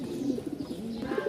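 Flock of pigeons kept for sale, around 250 birds, cooing in a soft low burble of overlapping calls, close and steady, with no talking.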